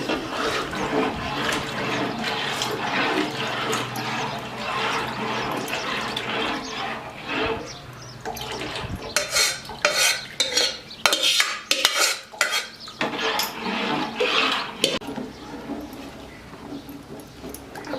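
Wheat flour is stirred and beaten into boiling water over a lowered gas flame while making kurdai, giving a steady, close scraping and slapping rhythm against the pot that grows choppier and more forceful toward the end, with no talking.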